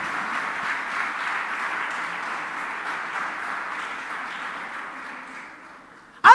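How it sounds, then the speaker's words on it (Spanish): A church congregation applauds during a Spanish-language sermon, a steady wash of many hands clapping that holds for about six seconds and slowly thins, with a brief sharp sound at the very end. "Si le va a aplaudir, aplauda"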